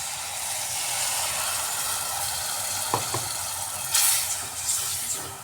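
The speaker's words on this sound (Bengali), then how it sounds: "মশলা কষানোর এই পর্যায়ে এসে আমি এবার দিয়ে দিচ্ছি পরিমাণ মতো জল" Watery masala gravy for egg tikka masala sizzles and hisses steadily in a pan after water is poured in, with a few brief louder splutters and bursts near the end.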